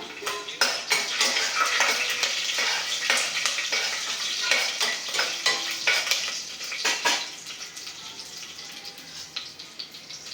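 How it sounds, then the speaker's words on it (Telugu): Dried red chilies and seeds sizzle in hot oil in a pan as a tempering, under steady frying noise and repeated metallic scrapes and taps of a stirring spoon. "ఇదిగోండి తాలిన గింజలు వేగినాయి రెండు ఎండుమిర్చి వేసేసాను"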